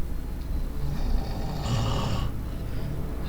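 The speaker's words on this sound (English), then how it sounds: "God damn, I'm so sorry for the snoring." A person snores in Fallout 4, a single rasping breath swelling for under a second above a constant rumbling game background.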